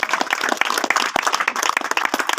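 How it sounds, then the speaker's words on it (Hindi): Dense audience applause at a small roadside meeting, many hands clapping steadily and loudly for the full stretch, close and continuous with no talk over it. "नायब शहर काजी सादिक उस्मानी जी, शानदार तालियां इनके लिए।"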